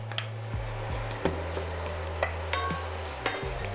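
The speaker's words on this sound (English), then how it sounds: "we are going to start by just shortly frying them on their own before adding in the pumpkin" Shallots frying in olive oil with a soft, steady sizzle, broken by a few light clinks and scrapes of a utensil against the pan, close by.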